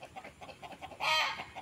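Red junglefowl hybrid rooster, sired by a purebred red junglefowl out of a decoy hen, gives a run of soft rhythmic clucks, then one louder, harsher call near the end before returning to quiet clucking.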